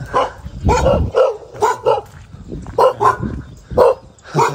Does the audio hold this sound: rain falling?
no